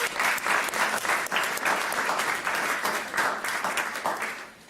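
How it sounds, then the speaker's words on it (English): Steady applause from a crowd at a graduation sash ceremony, dense clapping sustained throughout at an even level, no voices standing out. "One more little applaud for all of our graduates this year"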